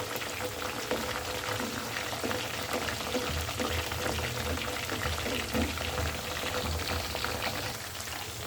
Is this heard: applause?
no